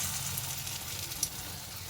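Battered shrimp pakora coated in gram flour sizzle steadily in hot oil in a wok, a continuous close frying hiss with a brief louder crackle partway through, and no voices.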